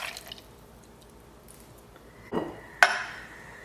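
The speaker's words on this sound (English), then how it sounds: "With ice, going to add 2 ounces of pumpkin pie vodka." Pumpkin pie vodka poured into a cocktail shaker filled with ice: a soft trickle and drip, then a short splash and one sharp glassy clink near the end, close up and fairly quiet.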